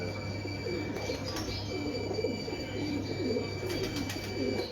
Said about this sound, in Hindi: बहुत लाजवाब कबूतर माशाल्लाह।